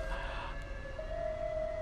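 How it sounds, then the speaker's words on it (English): A distant emergency siren wails faintly with a steady rising tone over low Brooklyn city rumble, no one speaking. "if you hear sirens, it's because I live in Brooklyn and there's always sirens everywhere"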